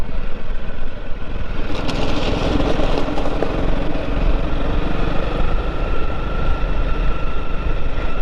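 A Honda 300L Rally motorcycle engine running on an old dirt road, a loud, steady drone that holds an even tone throughout, with no talking.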